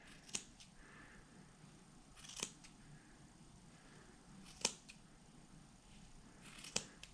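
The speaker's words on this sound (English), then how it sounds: "So I'm going to take my scissors and I'm going to cut it so that it goes apart." Scissors snip through yarn loops while making a pompom hedgehog: four sharp, quiet cuts spaced a couple of seconds apart over a soft background hiss.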